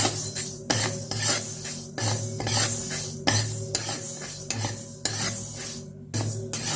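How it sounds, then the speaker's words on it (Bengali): Long-cut bottle gourd strips in a wok over a gas flame, with repeated metallic stirring clinks and scrapes against the pan over a light sizzle, close and rhythmic. "এবার লাউটা ভেজে নেব।"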